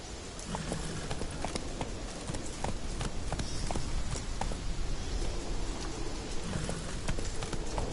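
Horse galloping in The Witcher video game: rapid, rhythmic hoofbeats pound steadily throughout, close and continuous over a dense background of game ambience.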